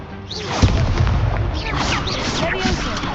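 Confringo fire-blast spell cast in combat in Hogwarts Legacy, heard as a string of loud, close explosive booms and crashes layered over busy battle noise and a voice.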